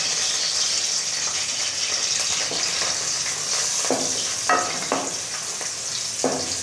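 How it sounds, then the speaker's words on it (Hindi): Steady loud sizzling of garlic and chili tempering in hot oil for chicken vegetable soup, with occasional stirring clinks and crackles rising through the hiss. "ये लहसुन जो है इसका हम तड़का बनाएंगे"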